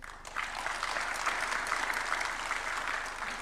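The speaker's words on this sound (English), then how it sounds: "I kindly invite everyone to join me in giving a warm round of applause to these distinguished scholars and leaders" A hall audience at a university charter award ceremony breaks into sustained applause for honoured scholars, a dense wash of many hands clapping at moderate distance, swelling and then holding steady.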